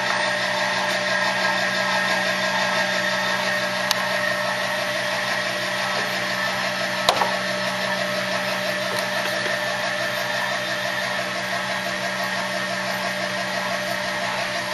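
Seed treater pump running on a farm, a steady continuous mechanical whir and hum with a faint rhythmic pulse and a couple of small clicks, no voices.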